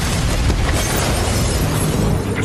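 A museum explodes in a drama series, a loud, sustained blast with a dense roar of rumbling debris that fills the whole stretch without letting up.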